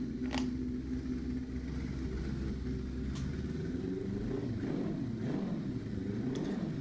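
A custom Suzuki inline-eight motorcycle engine with a big-bang firing order runs steadily, giving a deep, continuous low rumble that stays close and even throughout with slight swells, no voices over it.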